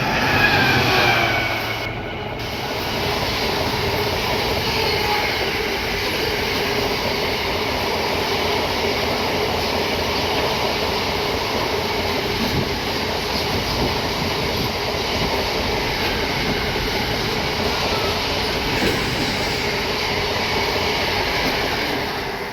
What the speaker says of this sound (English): Freightliner 66 going from Lawley Street to Southampton.